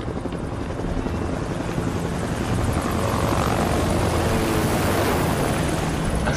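Helicopter in the Far Cry 6 video game drones with a loud, continuous rotor and engine roar that holds steady throughout, with no voices over it.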